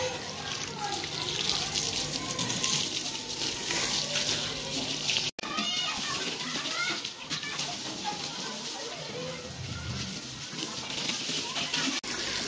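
Pressure water spray hissing steadily as a Suzuki Bolan van is washed, a continuous broadband rush with splashing, while people talk over it.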